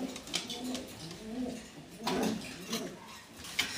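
Sirazi pigeons coo softly nearby in a few throaty, repeated bursts over a quiet background.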